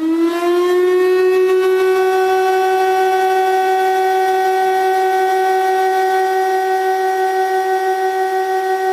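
A fire station siren sounds a single long, steady wailing tone that holds loud and even for the whole stretch, with no voices over it.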